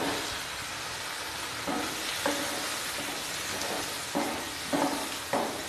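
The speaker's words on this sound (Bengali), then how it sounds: "এবার আমি আলুগুলোকে এই তেলের মধ্যে দিয়েই ভেজে নেব।" Peeled boiled potatoes frying in hot oil, a steady close sizzle with occasional stirring scrapes and clacks at irregular intervals, no talking.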